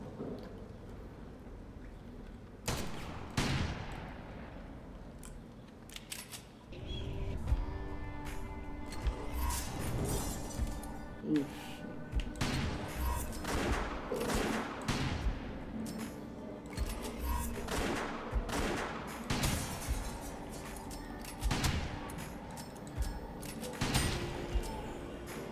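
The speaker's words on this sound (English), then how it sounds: "this time I got a long pistol" Long pistol shots in the roguelike video game West of Dead, sharp repeated cracks scattered through a busy game mix with impacts and ambience, fairly loud and steady throughout.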